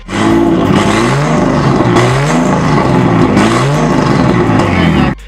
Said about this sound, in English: This, my good friend, is the RB20 Det with only 1 T because it was only single turbo.